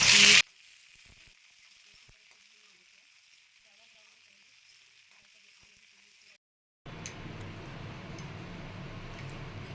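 Steady sizzling of spices frying in hot oil, continuous and fairly close, with a brief pause before onions go in and a louder, fuller sizzle resumes.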